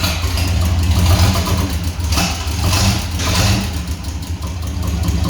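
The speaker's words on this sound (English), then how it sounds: "Backfired a little bit." A 305 V6 engine with a hot rod exhaust runs loud and close, with a throaty rumble that swells in a couple of revs over steady idling. The backfire is not clearly distinct, and no one speaks.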